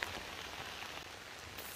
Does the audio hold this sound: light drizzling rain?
yes